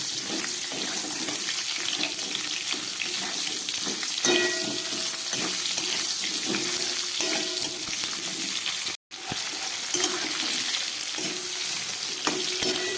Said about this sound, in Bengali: এবার আলু আর পটলটাকে আমি খুব ভালো করে এবার একটু ভেজে নেব।